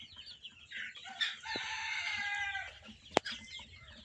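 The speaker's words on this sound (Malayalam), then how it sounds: "ഇത്തരത്തിലുള്ള ഒരു സോനാലി കോഴികളാണ്." Sonali chickens, a Fayoumi and native mixed breed, cluck and a rooster gives one drawn-out crow at a farm, close and clear, with a sharp knock near the end.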